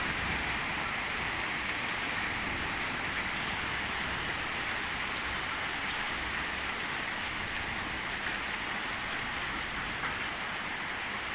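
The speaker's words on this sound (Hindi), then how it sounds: "हल्की फुल्की छोटी छोटी ज़ालाबारी भी हो रही है।" Rain mixed with light, small hailstones falling in early morning in Bahria Town, Rawalpindi, a steady dense hiss of drops on surfaces, continuous and fairly loud with no voices.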